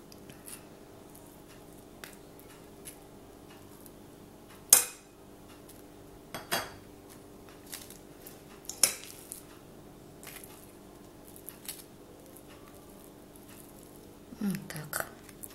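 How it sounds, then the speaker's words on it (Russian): Fork scraping and tapping as a spread is laid onto toasted bread slices, a few sharp clinks against a plate between quiet stretches, close by with no talking. "Я выкладывать буду вилочкой, мне так удобно."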